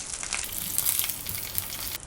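Steady crackling sizzle of dried red chillies and asafoetida frying in hot oil, constant and close, with no talking.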